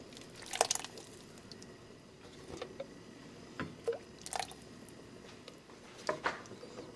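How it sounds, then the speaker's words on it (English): Chile is stirred into chicken pozole broth in a pot, producing occasional soft liquid sloshes and squishy swirls between quiet pauses, close by and faint. "Give that a little mix to incorporate the chile into our broth."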